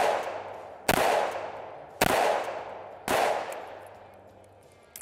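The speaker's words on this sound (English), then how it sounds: "I have 4 rounds of 327 Magnum in this" A Ruger LCR revolver fires .327 Magnum rounds: three loud, close shots about a second apart, each with a long, fading echo tail, then a small sharp click at the very end.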